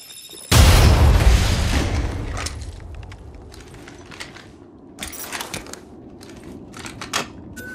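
An explosive charge from Fuze in Apex Legends blows a hold open with a sudden loud close boom that rolls off over a couple of seconds, followed by scattered metallic clatter and smaller impacts.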